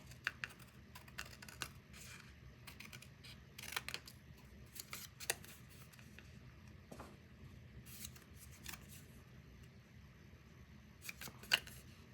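Scissors snip through cardstock while a trifold shutter card photo album is trimmed below its flower decorations, giving quiet, scattered sharp cuts and rustles over a soft background, with no talking.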